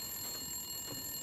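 A telephone rings inside the video game The Long Dark, a brief electronic ring with steady bright tones lasting just over a second, heard alone without talk.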